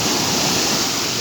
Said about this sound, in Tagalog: Ayan na yung alon. Ang lakas na.